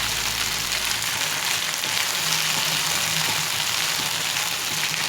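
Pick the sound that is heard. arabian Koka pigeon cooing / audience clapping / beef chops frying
beef chops frying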